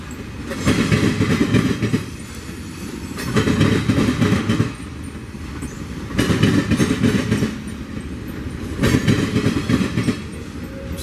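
Freight train rolling past up close with a mid-train DPU locomotive, loud rumble and repeated clickety-clack bursts of wheels over rail joints swelling and easing in a steady rhythm.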